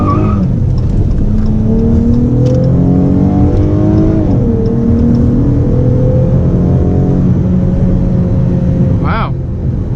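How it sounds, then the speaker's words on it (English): A 2017 Dodge fitted with an aFe Momentum GT cold air intake accelerates, its engine note climbing in rising sweeps of intake roar heard from inside the cabin, loud and steady, with a brief shift near the end. "I can hear the intake noise."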